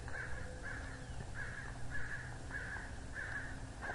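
An American crow in an old-town street gives a steady series of harsh caws, about seven evenly spaced calls over four seconds, clear and fairly close above low outdoor background rumble.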